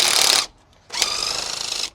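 A seized bolt wound out of a car wishbone with a ratchet, two bursts of rapid metallic clicking separated by a short pause, close and loud with no talk.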